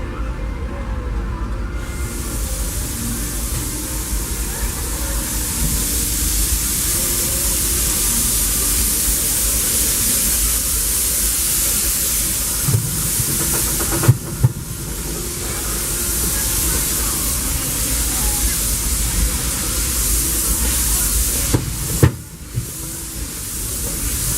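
A long, steady hiss of steam pours out of Disneyland Railroad steam locomotive Ernest S. Marsh #4, broad and continuous, with a few brief clanks and bumps partway through.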